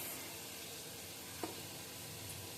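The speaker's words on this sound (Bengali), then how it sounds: "দেখেন চিংড়ি মাছ রান্না করতেছি আবার গতা মাছ" Shrimp frying in a pan give off a steady, even sizzle that holds at a constant low level throughout, with one brief faint click partway through and no talking.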